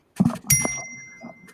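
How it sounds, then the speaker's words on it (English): A bell rings twice, each bright metallic ding followed by a clear lingering ring that fades slowly. "Can you ring the bell before you wrap up?"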